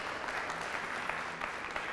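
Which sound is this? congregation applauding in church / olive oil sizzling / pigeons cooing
congregation applauding in church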